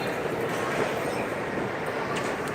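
A train at the Railway Museum gives a steady, loud rumble with continuous rolling rail noise and a faint high squeal near the end, with no voices.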